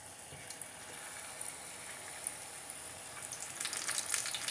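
Egg foo young frying in a pan, a steady close hiss and crackle like light rain that grows a little louder and busier toward the end.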